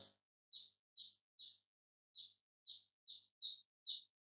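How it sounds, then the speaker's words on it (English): A small bird chirps repeatedly, nine short bright calls in an even rhythm with a brief pause midway, faint and distant in otherwise quiet surroundings. "I'm sorry if there is a bird"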